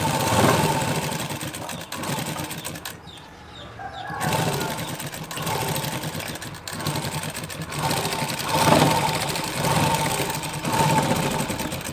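A sewing machine stitches a blouse side seam in close, rapid bursts, stopping briefly and starting again, with a low motor hum and faint birds in the background.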